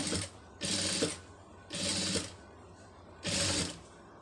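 A sewing machine stitches a puff sleeve in three loud, steady bursts of a second or so each, separated by short quiet pauses.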